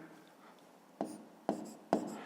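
Pen strokes on paper during a fifth-grade maths exercise, three sharp taps spaced about half a second apart over a faint, quiet background.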